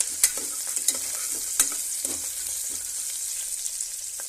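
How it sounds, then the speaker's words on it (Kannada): Onions frying in a pan for tomato bath, with a steady bright sizzle and irregular stirring clicks and scrapes, close and moderately loud, no talking. "ಇದು ಫ್ರೈ ಆಗ್ತಿದೆ ಇದು ಸ್ವಲ್ಪ ಬ್ರೌನ್"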